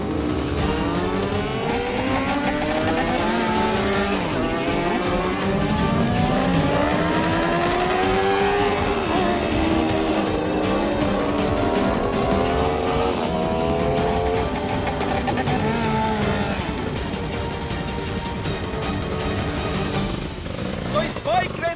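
Motorcycle engines rev hard during a bike race, overlapping whines sweeping up and down in pitch as machines pass close and loud for a long stretch, with voices mixed in beneath the roar.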